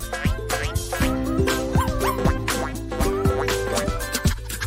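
A puppy barks and yips repeatedly in a playroom with a tennis ball, short sharp high calls close by, loud and alone over most of the stretch.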